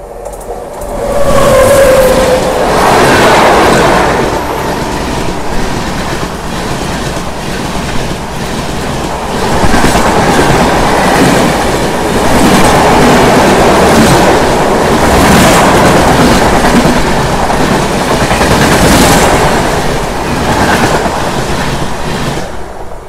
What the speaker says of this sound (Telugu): సో ఇది వచ్చేసి మనకు ఏపీ ఎక్స్ప్రెస్ విశాఖపట్నం న్యూఢిల్లీ.